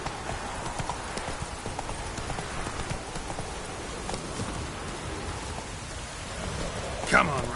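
Steady clip-clop of the horse Roach galloping through a video game world, hooves pounding in a continuous rhythm over a rainy, rumbling ambient backdrop, with a sharper burst near the end.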